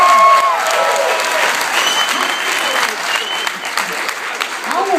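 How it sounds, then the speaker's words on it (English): A comedy show crowd breaks into loud, full applause for Lynn Hart, the clapping strong from the start and easing slightly as it goes on, with scattered crowd voices mixed in. "Can we give a round of applause for Lynn Hart?"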